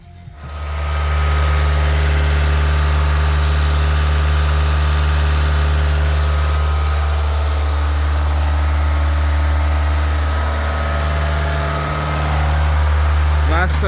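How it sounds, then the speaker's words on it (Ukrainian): A Citroen SpaceTourer engine idles steadily at close range while warming up, a constant low hum and vibration that runs unbroken for the whole stretch. "триває прогрів автомобіля"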